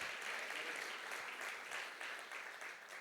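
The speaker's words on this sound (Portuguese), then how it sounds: "dê a melhor salva de palmas para o Senhor Jesus" A church congregation claps together in praise during a Sunday worship service, a dense, steady wash of applause filling the room for several seconds without any voices over it.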